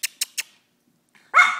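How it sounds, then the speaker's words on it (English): Three quick, sharp dog barks in a row, then a pause and one more bark. "What are you barking at?"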